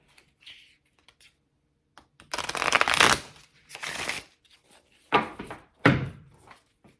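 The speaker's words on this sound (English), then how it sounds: "Let me give it a little shuffle here." Oracle cards are shuffled in a few quick riffling bursts, close and crisp, with soft taps and pauses between them and no talking.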